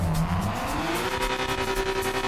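A loud, roaring BMW 325is engine in GTA revs steadily with a rising pitch, close and continuous, with gritty tire noise underneath.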